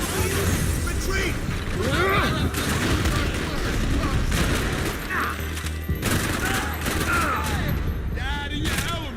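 A Max Payne 3 firefight with dense, heavy volleys of gunshots, glass shattering and booming impacts, continuous and loud, while voices shout over the shooting.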